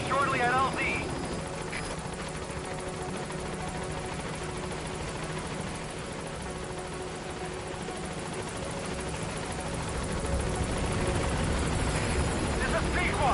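The B-Quad support helicopter in Metal Gear Solid V approaches a landing zone, its rotor and engine roar filling the scene continuously and growing louder toward the end, with radio-style voices speaking over it.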